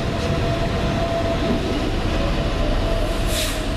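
A Tyne and Wear Metro train runs loud and close, its steady rumble and rail noise continuous, with a faint squeal near the end.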